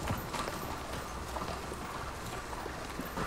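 Hooves clip-clop steadily amid a dense, noisy background, suggesting many horses moving together at a distance.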